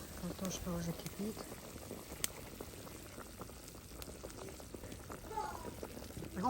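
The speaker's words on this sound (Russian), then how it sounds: "Да, картошка уже кипит." Quiet bubbling of potatoes boiling in a pot, soft and close, with people talking intermittently over it.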